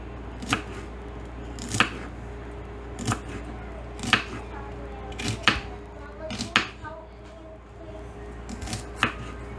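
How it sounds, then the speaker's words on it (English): A knife chopping celery and carrot on a cutting board, about ten crisp separate chops at a slow uneven rhythm, close and clear over a low steady hum. "get your vegetables, your celery and your carrot, and you're going to chop these"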